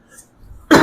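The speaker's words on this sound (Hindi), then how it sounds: "खांसी आ रही है।" A single sharp, loud cough from a person close by during a classroom lesson, bursting out abruptly after near silence and ringing on to the end.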